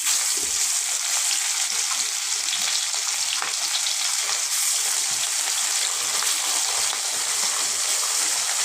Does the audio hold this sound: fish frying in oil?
yes